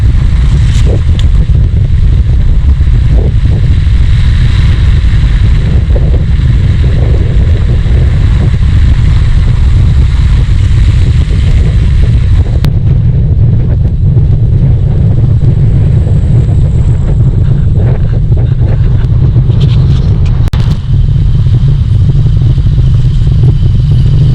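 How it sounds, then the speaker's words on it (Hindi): Riding an electric bike on a sunny road in Islamabad produces loud, constant wind buffeting and road rumble for the whole stretch, with occasional clatter and passing traffic. "इलेक्ट्रिक बाइक पे हैं हम"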